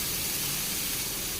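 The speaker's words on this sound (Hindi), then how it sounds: "अब थोड़ा सा पानी डाल देंगे ताकि सॉफ्ट हो जाए टमाटर।" Dense, even hiss of water hitting a hot oiled kadhai of tomatoes, a constant sizzling spray sound throughout the short moment with no voices.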